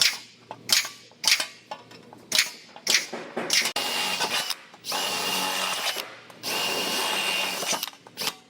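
Power drill boring holes for plug welds in a car body panel in a body shop: loud, close sharp bursts and clicks, then several sustained whining runs of drilling through metal.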